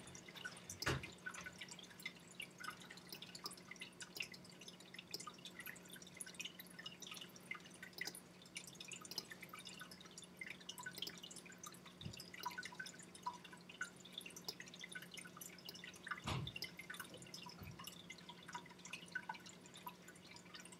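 Water drips steadily and faintly in a quiet room, small irregular plinks over a low background hum, with a couple of slightly louder drops standing out.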